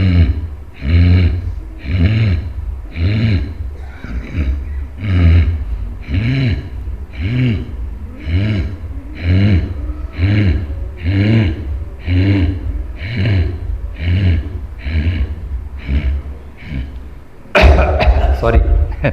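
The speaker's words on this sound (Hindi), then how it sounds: "कबूतर की तरह शॉर्ट ब्रीथ आवाज़ निकालेंगे ऐसे" Someone takes short, forceful pranayama yoga breaths in a steady rhythm, roughly twenty in a row, close and loud, ending with a brief noisy burst.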